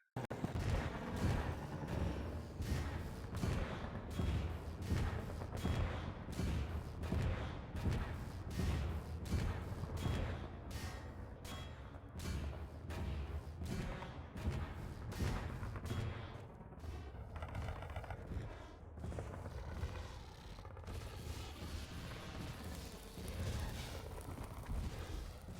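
Sustained gunfire in Half-Life 2, with loud, dense bursts of rapid shots and booming impacts rolling almost continuously, thinning briefly before picking up again.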